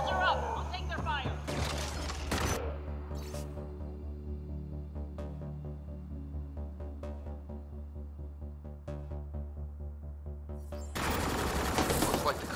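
Enemy gunfire in Mass Effect Andromeda comes as two loud, dense bursts of rapid shots, one near the start and one at the end, with a quieter pulsing electronic hum in between.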